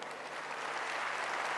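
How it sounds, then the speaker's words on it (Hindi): Audience clapping at a meditation gathering in a hall, a dense, steady wash of many hands applauding loudly throughout, no voices. "एक बार जोर से तालियां बजा लीजिए।"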